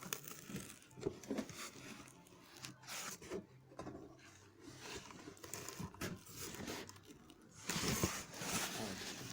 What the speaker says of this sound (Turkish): Öncelikle Elvan'ın kolata dolu paketini açmak istiyorum